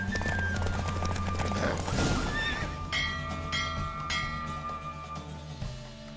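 A horse in The Witcher 3: Wild Hunt whinnies loudly over steady galloping hoofbeats during a race, then the clip-clop fades as a bright chime rings out.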